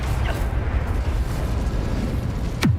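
The Incendio fire spell in Hogwarts Legacy erupts as a dense, continuous fiery rumble, loud and close throughout, ending with a sharp sweeping burst near the end.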